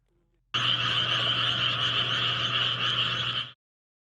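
Frogs croak in a dense, continuous chorus in a rural border area of Ganghwa County, loud and steady for about three seconds before cutting off abruptly.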